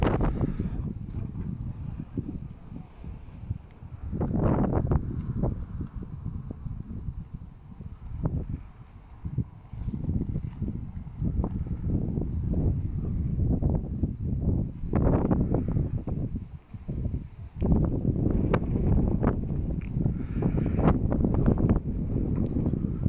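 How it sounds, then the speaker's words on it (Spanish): Strong wind buffeting a microphone outdoors in Nogales, Sonora, a steady roaring rumble that gusts and dips for over twenty seconds, loud and close with no voice over it. "Es que hace muchísimo viento."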